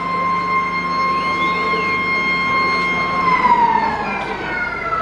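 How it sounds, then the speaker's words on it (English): A football ground siren blares at a country championship match in Western Australia, a long steady tone held for several seconds, loud and near above faint crowd and field noise. "Siren goes."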